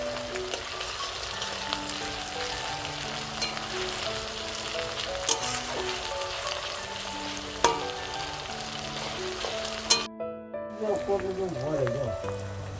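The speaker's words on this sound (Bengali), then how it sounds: "পেঁয়াজটা আমার প্রায় কষানো হয়ে গেছে।" Onions frying in a pan with a little salt for a Bengali chicken curry, a dense continuous sizzle with occasional stirring clatter, while a person talks over it; the sizzle drops out near the end.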